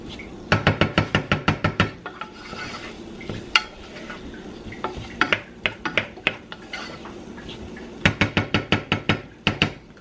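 A utensil scrapes and clanks rhythmically against a metal cooking pot, sounding near and loud, in quick runs of strikes with short pauses between as peas are stirred in for a New Year's Day meal.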